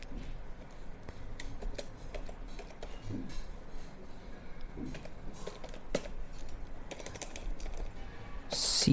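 Laptop keys tapped in short irregular bursts, soft and close, with faint clicks spread across a quiet room and no talking.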